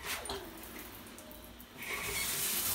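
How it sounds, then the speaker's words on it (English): A hotel shower at a Residence Inn in North Portland, Oregon sprays steadily nearby, its hiss swelling louder partway through as the flow picks up. "I guess we'll turn on the shower."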